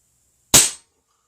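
A single sharp shot from a Crosman 2240 bolt-action air gun firing a pellet, one loud close crack with a short decay in an otherwise quiet clip.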